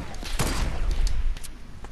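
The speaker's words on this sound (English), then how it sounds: "I sniped someone right in the face." Rapid gunfire from a Fortnite match, several sharp shots in quick succession over the game's background sound, with players talking at moments.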